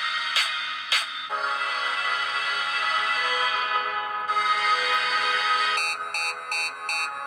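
Music playing from a cheap iPod-style portable player, a steady, bright, tinny stream with no gaps, and a few sharp clicks and beeping tones near the end.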